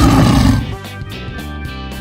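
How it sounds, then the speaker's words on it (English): A lion roars in a loud, close, rough growl with strong low rumble, about two seconds long. "Lion."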